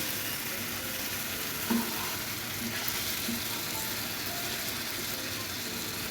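Potato and pabda fish sautéing in a pan make a continuous close sizzle with soft stirring scrapes and a couple of light clinks, and no voices.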